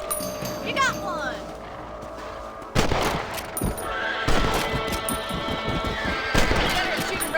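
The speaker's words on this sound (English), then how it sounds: "Better at shooting rabbits than outlaws, I see." Gunshots while hunting rabbits in Red Dead Redemption: a sharp report, then a string of close shots scattered through the clip, with animal bleats early on and voices talking over the action.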